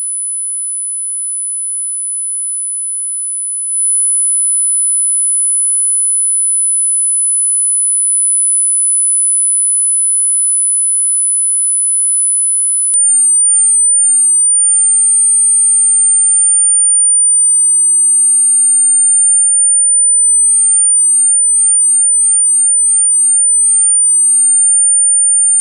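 A steady, loud, piercing pure tone at 10,000 hertz from a cymatics setup, holding unbroken for the whole stretch with a slight step in level partway through, alone with no voices.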